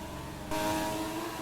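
Race cars, including a McLaren, scream down a straight in a racing video game at a Greek Grand Prix, with the engine note jumping abruptly louder halfway through into a sustained high whine.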